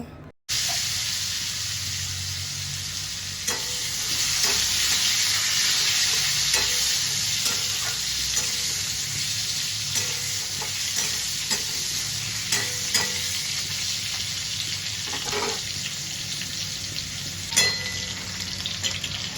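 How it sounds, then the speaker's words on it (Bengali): Cut potatoes fry in hot oil in a pan, a continuous close crackling sizzle that holds steady throughout, with scattered pops and occasional spatula scrapes and clinks, no voices. "এবার ওই তেলের মধ্যেই কেটে রাখা আলুটা ভেজে নেব।"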